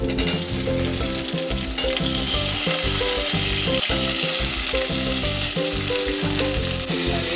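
Tomato, green chilli and mint fry in hot oil tempering for a tomato chutney, producing a loud, continuous sizzle with stirring beneath steady background music.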